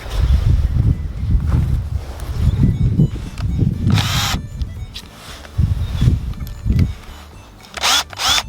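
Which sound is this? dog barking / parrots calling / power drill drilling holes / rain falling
power drill drilling holes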